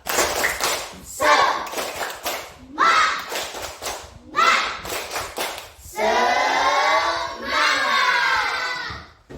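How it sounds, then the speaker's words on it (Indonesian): Schoolchildren in a classroom perform a rhythmic spirit clap, bursts of quick claps mixed with loud group chanting and shouts, repeating in several close waves. "kita ya berikan tepuk semangat untuk kita semua"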